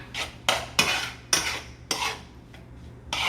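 A spoon stirring a pot on the stove, several rhythmic scraping strokes against the pot, close and fairly loud with short gaps between them.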